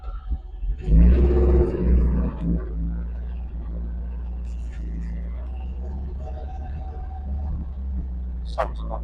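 An MG BGT engine runs with a low, steady rumble, swelling into a brief louder roar near the start before settling to an even idle, with a few faint clicks and knocks on top.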